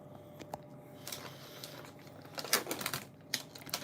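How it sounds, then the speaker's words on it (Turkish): A plastic bag wrapped around a potted Christmas cactus is opened indoors, giving close, crinkly rustles and sharp crackles in scattered bursts, loudest near the middle, over a low room hum. "Hemen poşetini açıyoruz."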